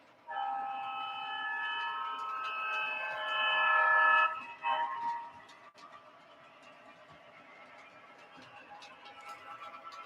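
Diesel locomotive running on a garden railway, a sustained horn-like tonal blare for about four seconds over a low rumble, then fainter running noise with light clicks.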